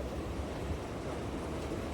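Mumbai commuter train ride from Churchgate to Dadar: a steady low rumble and rattle of the moving carriage, continuous and fairly loud throughout, with no talk.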